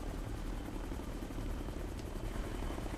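A helicopter in the video game Ghost Recon Future Soldier churns with a constant low rotor thump and engine roar, loud and steady for the whole span with no talk.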